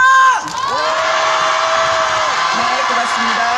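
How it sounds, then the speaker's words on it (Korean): A rally crowd shouts a sustained cheer for peace while waving pickets and hands, a dense roar of many voices with whoops that starts after a short amplified voice and holds loudly to the end. "자, 피켓과 우리의 손을 흔들면서 평화의 함성 5초간 한번 질러보겠습니다."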